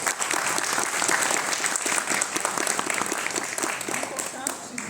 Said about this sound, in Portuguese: Palmas para os monitores.